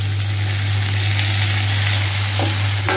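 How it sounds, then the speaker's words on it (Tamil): Tomatoes with green chillies sauté in a pan for a chicken curry, giving a loud, continuous close-up sizzle over a steady low hum, with a couple of brief scraping stirs near the end. "தக்காளி கொஞ்சம் வதங்கட்டும்"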